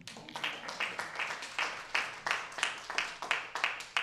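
Audience applause follows a remark at a governor's announcement on children's mental health, a steady wash of clapping with rhythmic bursts lasting several seconds, moderately loud in a large room.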